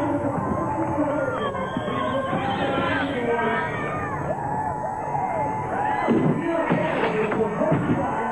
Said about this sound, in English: the crowd is on fire here